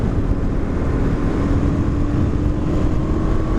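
Engine of a Suzuki DRZ400 dual-sport motorcycle on mixed knobby-street tires drones steadily and loud throughout, a continuous close rumble as the throttle is twisted, with no clear surge or separate rev peaks.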